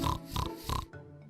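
Pig grunts and oinks in short bursts, three rough calls with brief gaps, close and moderately loud, followed by a quieter low grunt at the end.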